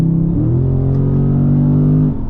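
A Dodge Charger's engine revs hard and loud at close range, the deep rumbling note climbing then holding steady before cutting off, with no talk.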